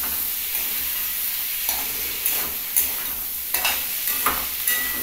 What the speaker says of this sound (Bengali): এইবার যে ভাজা যে চিকেনটা এর মধ্যে আরেকটু কষিয়েও